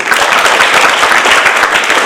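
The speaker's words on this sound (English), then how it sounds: "I want a huge round of applause for the chief guest for today." An audience at a school annual function applauding with dense, continuous clapping that stays loud and even throughout.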